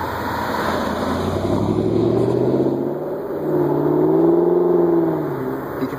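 Ford Mustangs on an autumn club cruise through rural Lancaster County, Pennsylvania rumble past with a deep, loud engine drone that swells as one revs up and the pitch climbs and falls, the cars passing close.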